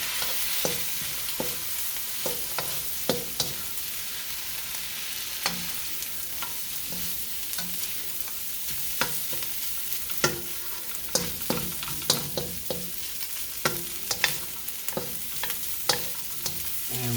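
Turmeric fried rice with ham is stir-fried with oyster sauce and soy sauce in a pan. It gives a steady close sizzle broken by frequent scraping and clacking from the stirring utensil.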